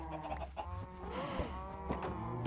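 Chickens clucking in the video game Minecraft, several quiet overlapping clucks repeating over a soft game background with no talking.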